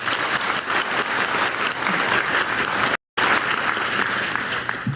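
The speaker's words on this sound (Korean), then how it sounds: "먼저 과감한 투자를 결정해 주신 세 분께 다시 한번 격려와 희망 박수를" Sustained applause from a large audience at a government investment event, a dense even clatter of many hands lasting throughout with a brief cut midway, no voices.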